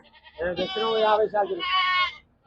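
Male goats bleat at a Banjara goat market in Moranpalli, Bhadradri Kothagudem district, Telangana, with two loud, wavering calls close by, one after the other.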